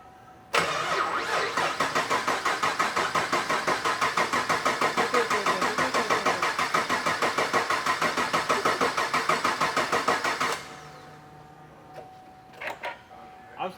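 NA 416 V8 cranking over on its first start-up attempt, a loud, steady rhythmic starter churn running about ten seconds without catching, then cutting off, followed by faint clicks and short noises.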